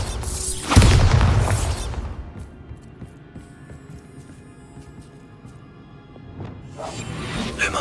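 In the video game Hogwarts Legacy, a Bombarda spell goes off as a single heavy boom with a crashing burst early on. It fades into quieter ambient game sound, and another swell rises near the end.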